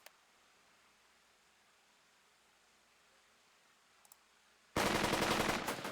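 In the Burden of Command video game, gunfire breaks out after a long near-silent stretch, a loud dense rattle of rapid shots over the final second or so, preceded by a couple of faint clicks.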